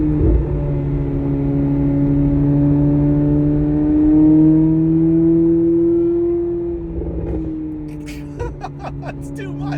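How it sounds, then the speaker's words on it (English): Chevrolet Corvette C8 Z06 with Concept 841 headers, its exhaust holding a loud, smooth, steady drone that rises slightly in pitch, then drops as revs fall, ending with a few faint crackles. "this Concept 841 setup, they dialed this thing in specifically for the Z06 sound."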